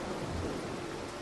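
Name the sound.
thunder during a storm in the video game Mark of the Ninja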